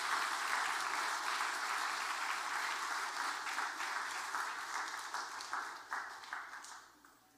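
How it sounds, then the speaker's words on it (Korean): A church congregation at Sunday worship claps together in steady dense applause that gradually thins and fades out toward the end, moderately distant and reverberant, with no talking. "우리 서로를 위해서 격려의 박수 한번 해주시겠습니다."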